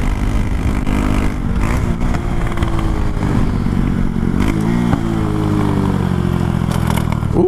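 A Honda Grom motorcycle fitted with a 17T sprocket accelerates hard through the gears. Its engine note climbs and drops with each shift, loud and close, over steady rumble and wind noise, with a brief scrape near the end.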